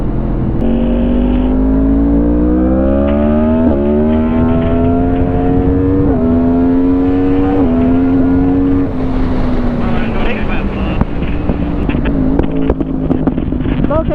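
A motorcycle engine revs loud and close, its pitch climbing through the gears and then dropping as it downshifts, with steady wind rush throughout and people talking over it.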